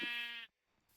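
A single sheep in the video game Minecraft gives one short, clear bleat, heard alone, that cuts off abruptly into quiet.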